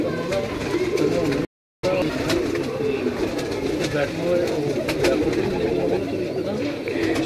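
Pigeons kept by a Lahore fancier coo and rustle in a continuous close chorus, with a brief dropout early on and faint voices in the background.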